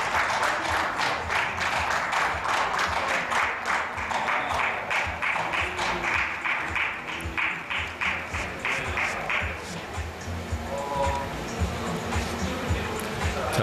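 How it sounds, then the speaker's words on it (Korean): Rapid clapping from a neighbouring table at a professional billiards championship match, dense and steady for about nine seconds and then fading out, with commentators' voices running underneath. "옆에 테이블에서 지금 박수 치고 난리 났죠"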